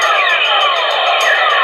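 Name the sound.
sonified sound of planet Earth from space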